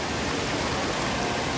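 Loud rushing water fills an indoor space with a constant, dense roar that does not change and drowns out everything else. No voices are heard.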